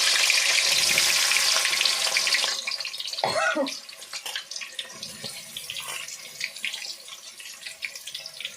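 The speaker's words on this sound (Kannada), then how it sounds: "ಎಣ್ಣೆ ಹಾಕಿದ್ದೀನಿ ಆಯಿಲು ಕಾಯ್ದೈತೆ ಇವಾಗ ಈರುಳ್ಳಿ ಹಾಕ್ತಾ ಇದ್ದೀನಿ ನಾನು ಅದಕ್ಕೆ" Onions tipped into hot oil in a pan for veg fried rice hit with a loud, broad sizzle that quickly settles into a softer, crackling fry, with faint voice in the background.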